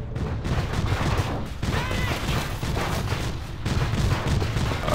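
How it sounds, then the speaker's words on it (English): Rocket fire and heavy gunfire in the Battlefield 2: Project Reality combat game, during infantry fighting in Fallujah West. A dense, continuous roar of blasts and shots rumbles steadily without a break, loud and close. "Another rocket."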